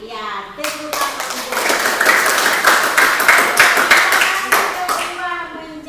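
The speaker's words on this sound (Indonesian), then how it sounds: "Ya, tepuk tangan." A classroom of schoolchildren claps at the end of a religious lesson, a dense burst of many close hand claps that swells and holds for several seconds, framed by a voice talking briefly at the start and end.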